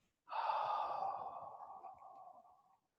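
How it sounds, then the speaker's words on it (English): A long, slow breath out during a gentle qigong movement, one soft exhale that starts firmly and gradually fades, close and quiet. "Bringing the body upright and breathing out on the way down."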